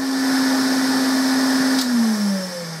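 A Hoover Constellation vacuum cleaner with an earlier motor runs steadily, its motor whine holding a constant tone before dropping slightly in pitch near the end, with a brief click partway through; no talking.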